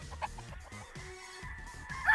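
Rooster of a breeding flock clucking in short bursts, a few close, moderately loud calls spaced across two seconds with faint background noise.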